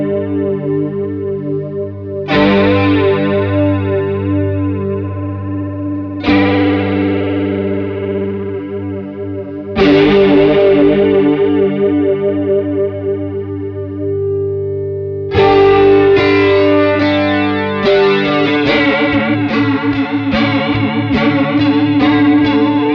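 An electric guitar runs through a PRS Wind Through The Trees modulation pedal, its two LFOs layered into a deep, fast, swirling chorus-like wobble on ringing chords and notes that sustain and decay, loud and alone.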